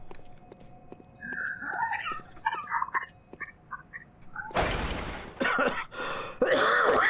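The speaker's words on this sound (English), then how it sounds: "Stop coughing in there!" Several rough, raspy coughs and throat-clearing bursts in the video game Bloodborne break out after a stretch of quieter croaking sounds, loud and close, in quick succession.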